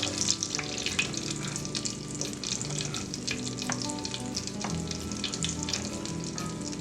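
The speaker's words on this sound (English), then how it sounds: "It's not such an aggressive boiling sound anymore." Butter bubbles and sizzles steadily in a hot cast iron skillet as it browns, a dense crackling hiss with occasional sharper pops, close and continuous.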